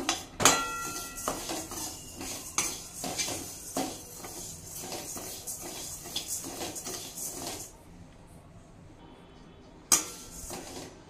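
Dry urad dal is stirred in a metal pan while being roasted for crispy janthikalu. Spoon scrapes and grains rattle and clink against the pan in an irregular, close rhythm that fades toward the end.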